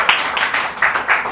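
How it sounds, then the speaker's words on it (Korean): Welcome applause for a guest pastor coming up to speak at a seminar, a steady roomful of clapping with rising and falling swells throughout. "우리 김윤영 목사님 나오실 때 환영의 박수 부탁드립니다."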